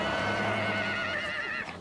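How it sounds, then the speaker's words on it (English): Przewalski's horses arriving at a Mongolian nature reserve give a loud, close whinny, a single drawn-out neigh of nearly two seconds heard alone. "16 Przewalski horses from European reserves touched down in Ulaanbaatar."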